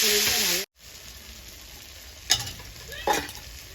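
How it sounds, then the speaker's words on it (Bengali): A spice paste of cumin, ginger, garlic, onion and dried chilli is tempered in hot oil for a coconut egg curry, with a loud sizzle that cuts off abruptly, then brief stirring scrapes and spatters. "ফোড়নটা ভালো ভালো করে কষিয়ে নেব"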